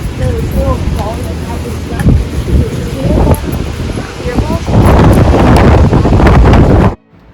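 Strong wind roars and buffets the microphone in loud gusts, with flapping and rushing noise growing heavier toward the end before cutting off abruptly.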